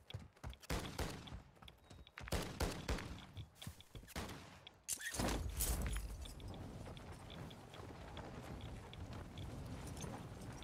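Gunfire in a Call of Duty game, with a rapid run of close, sharp shots and thuds, then a heavy blast giving way to a sustained rumbling wash of distant fire.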